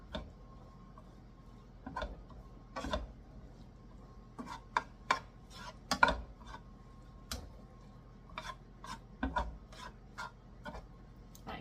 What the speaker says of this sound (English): we are going to stir that around